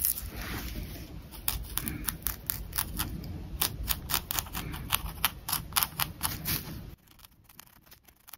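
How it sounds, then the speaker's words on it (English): A sharpened pencil scratches small lines into a white printing surface, making quick, repeated dry scratches in a steady rhythm, close and clear, before stopping near the end. "I'm going to start by doing my design with my sharpened pencil, breaking the surface, doing little scratchy lines"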